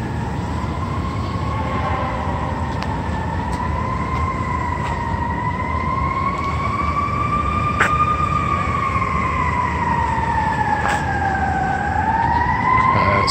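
A fire engine siren wails steadily in a slow rising and falling tone, loud and close, over a constant rumble of traffic and engine noise with a few sharp clicks.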